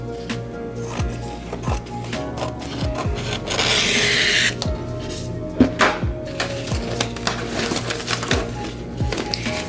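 Scissors snipping away excess appliqué fabric beyond the hoop, a series of crisp, irregular cuts and rasping rubs up close, with a brief louder rustle partway through and no talking.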